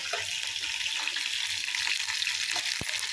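Stingray fish curry (thirukkai meen kuzhambu) bubbling in a pot, a continuous close hiss and simmer with a few soft pops and one short knock near the end.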